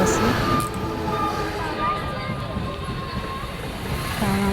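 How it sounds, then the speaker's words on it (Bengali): A train rolls past a level crossing near a station, its gate lowered: a continuous heavy rumble and clatter of wagons fills the whole stretch, with faint voices underneath. "গেট পড়ে গেছে ট্রেন যাচ্ছে"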